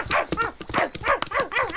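A dog in a German children's audio drama yips and barks excitedly in a quick, continuous run of close, loud barks, with a faint voice beneath.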